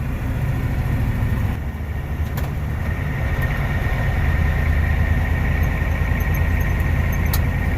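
A Ford 7.3 IDI diesel engine running steadily at about 1800 RPM, a loud, continuous close-up rumble with a dense low drone and a few faint clicks and knocks on top.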